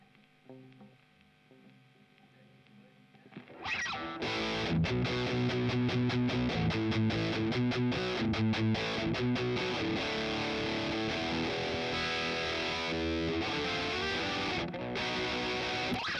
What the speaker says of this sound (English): distortion, a classic Marshall pedal.